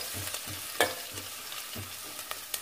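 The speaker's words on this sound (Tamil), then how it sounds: "இது கொஞ்சம் வறுபடட்டும்." Onions frying in a pan with curry leaves and dried chilies for a country chicken soup, a steady close sizzle broken by soft stirring scrapes and small taps of the utensil.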